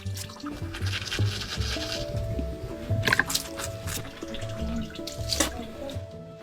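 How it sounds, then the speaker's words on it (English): A tap runs steadily into a sink as water is splashed for face washing with ice water in a Yakut village home at -44°C, the flow irregular with small splashes and a faint tone humming underneath. "Aryan starts his morning by washing his face and brushing his teeth with ice water."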